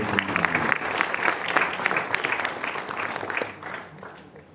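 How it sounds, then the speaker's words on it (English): Audience applause at a book launch for a collection of essays, a sustained wash of many hands clapping that stays steady and gradually thins and fades toward the end. "So please join me in applauding his latest achievement"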